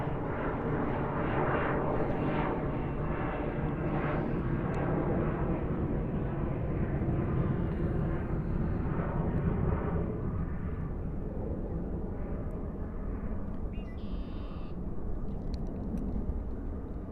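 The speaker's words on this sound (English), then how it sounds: "Qatar Flight 6 with a 777-300 service from Doha" A Qatar Airways Boeing 777-300 jet at JFK airport gives a loud, steady engine roar that slowly fades and dulls, continuous with no talk.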